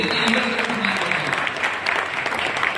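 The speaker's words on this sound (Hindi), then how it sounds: "मैं जरूर चाहूंगा इन सभी के लिए जोरदार तालियां होंगी।" Applause from the audience at a Hindi-language gathering honouring a former police sub-inspector, a steady burst of many hands clapping together, fairly close and filling the whole stretch.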